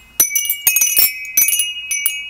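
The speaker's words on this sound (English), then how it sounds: "Oh, listen to the chimes." Spiral wind chime with marble bells in the center, giving bright glassy clinks and rings in several loose bursts, close and clear with no talking.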